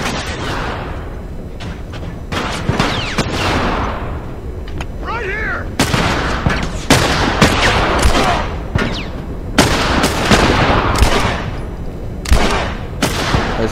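Gunfire in The Last of Us comes as a series of loud, sharp shots at irregular intervals, some close together and others spaced apart, with echoing tails between them and talk underneath.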